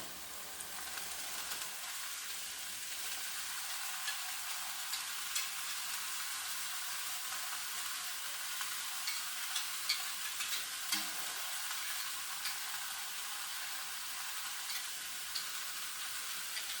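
Beef with soybean sprouts sizzles steadily in a hot pan, a continuous bright frying hiss with faint stirring scrapes and small pops, close and alone.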